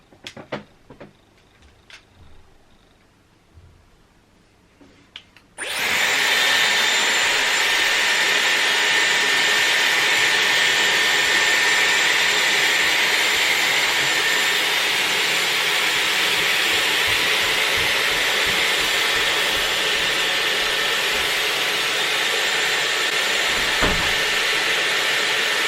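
Dyson Airwrap hair styler blasting cold air, a loud, steady, close whooshing roar that switches on abruptly after a few seconds of quiet handling noise and holds constant to the end.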